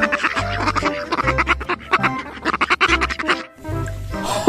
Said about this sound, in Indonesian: Ini bebek.